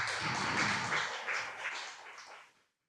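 A congregation at a Friday church worship service claps together in a dense, steady burst of applause. It stays fairly loud, then thins out and fades to silence within about three seconds.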